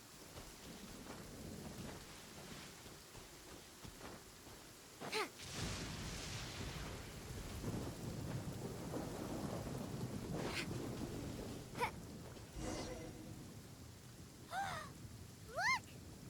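Rain and thunder in a video game, steady rainfall hiss under several rolling thunder rumbles and sharp cracks, with faint brief vocal sounds near the end.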